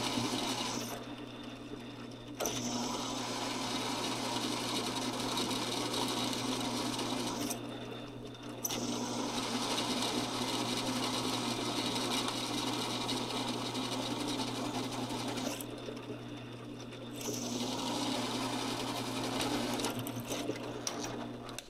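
A drill whirs steadily through thick metal in long runs while working on a motorcycle exhaust, its motor dropping briefly twice before spinning up again, loud and close.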